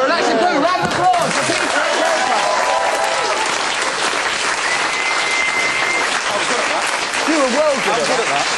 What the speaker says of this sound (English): let's put a round of applause for Peter